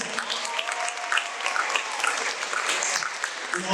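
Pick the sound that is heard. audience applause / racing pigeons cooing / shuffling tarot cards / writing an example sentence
audience applause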